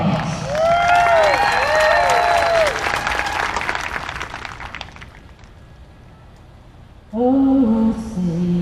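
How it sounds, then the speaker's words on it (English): A rodeo crowd applauds an anthem singer from Crossett, Arkansas in a broad roar of clapping that thins and fades, with a voice and some tonal sounds at the start and a sharp tonal sound near the end. "how about a hometown round of applause for Miss Angie Collins"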